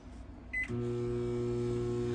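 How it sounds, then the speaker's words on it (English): A microwave oven remelting wax gives a short electronic beep, then settles into a steady, close mains-like hum that drones on without a break. "Let me give it a few more seconds in the microwave."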